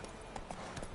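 Roach, the horse in The Witcher 3, runs in a short, quick burst of hoofbeats, faint and steady under a background bed of game ambience.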